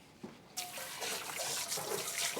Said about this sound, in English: Actually, all I had to do was rinse the pot.